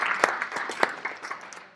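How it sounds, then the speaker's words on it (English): A short burst of light applause at a council boundaries meeting as a new member is welcomed, with a few sharp distinct claps standing out over a thin, uneven patter. "Let's give him a big applause."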